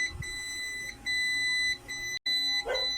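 A mini fully automatic egg incubator sounds a steady electronic beeping alarm after its lid is opened, with repeated tones broken by brief gaps.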